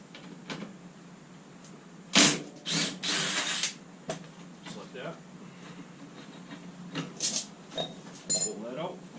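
A ratchet with a 21/32 socket works on the rear axle nut of a 2007 Yamaha Grizzly 700 four-wheeler, giving several short, close clicking bursts, with someone talking between them.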